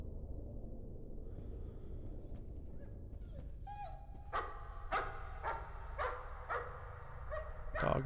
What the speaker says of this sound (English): Dog barking.